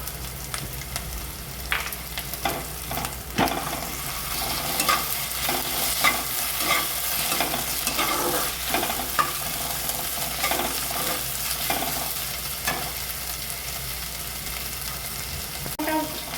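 Onions softened to golden fry in oil as ginger-garlic paste goes in, giving a steady hiss and sizzle with repeated scraping stirs of a spatula in the pan, close and continuous with no talk.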